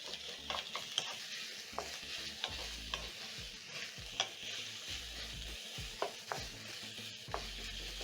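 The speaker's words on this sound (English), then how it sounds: "using a spatula, you're going to break down the meat as it cooks" Minced meat frying for spaghetti bolognese, a steady sizzle broken by repeated scraping and tapping of a spatula against the pan, close and fairly quiet, no talk.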